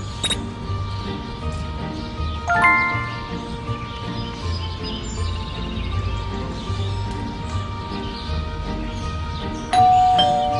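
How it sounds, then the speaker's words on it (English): A doorbell chimes inside the Scary Teacher 3D video game, with a ding-dong ring at the start and bright tones again near the end, over busy game music and small effects. "Stupid bell again."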